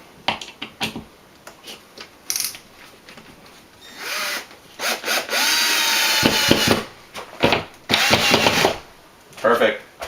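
Power drill driving screws to secure drywall backing while repairing a large hole, heard as several loud bursts of whirring with pauses and handling knocks between them, close up, with a few spoken words.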